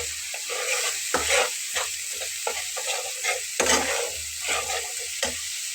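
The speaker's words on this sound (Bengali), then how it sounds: "মশলাটাকে একটু খুব ভালোভাবে কষিয়ে নিতে হবে।" Spice masala for a Bengali eggplant dish is stir-fried in a pan: a spatula scrapes and stirs in irregular strokes over a steady, soft sizzle, close by, with no voices.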